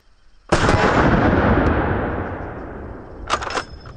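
A single loud, close T-Rex rifle shot cracks out, then a long boom and rumble decay over several seconds, with a brief clatter of lighter noise near the end.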